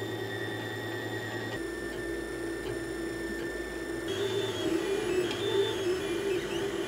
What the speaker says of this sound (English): Well, I got the replacement 3D printer. We're running the test print here